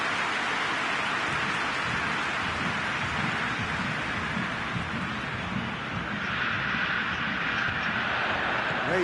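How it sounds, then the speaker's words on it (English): Steady rain falls in a PES football match, a dense even hiss filling the whole stretch with no pause, loud and close throughout. "Rain starting to fall here."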